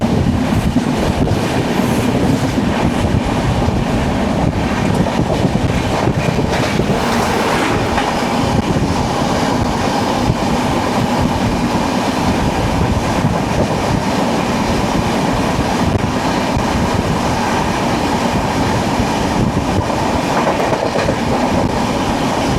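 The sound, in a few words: Sabari Express train passing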